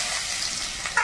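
Panch phoron spices and chopped garlic hit hot oil in a pan, setting off a short burst of steady, bright sizzling and spattering with a brief louder flare at the end.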